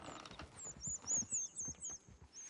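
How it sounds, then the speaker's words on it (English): Horses in a PS4 video game clop along in irregular hoof beats, with a high, wavering whinny riding above and faint mechanical rattles underneath. "Damn horses!"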